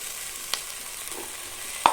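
Freshly grated coconut fries lightly with tomato and onion for a village-style country chicken curry, giving a faint, steady sizzle broken by a couple of sharp clicks from the pan.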